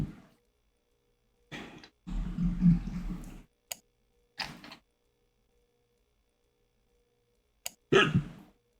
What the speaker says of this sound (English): I'm really distracted by the damn hiccups